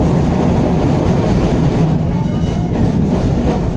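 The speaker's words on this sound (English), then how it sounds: "Here's a similar tram I'm riding on, just went past." Melbourne W6 class tram rolling along its tracks, a steady loud rumble with clattering wheels heard from on board, continuous throughout with no talking.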